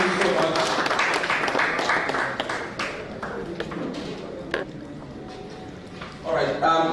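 Crowd applause at a community meetup in Lagos: dense, steady clapping that fills the room at first, then thins and tapers while voices carry on over it.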